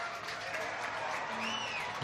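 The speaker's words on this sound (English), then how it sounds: "Warmly applauded and cheered." Crowd at a rugby match in the Men's RBS Bowl, Highland v Glenrothes, applauding and cheering as a player is substituted; steady, moderately loud clapping with some cheering spread evenly through the moment.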